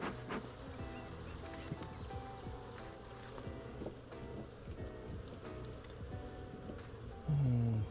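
Honeybees hum at hive number one, a nucleus colony, with a steady low drone close by, mixed with wind and handling rustle and no voices.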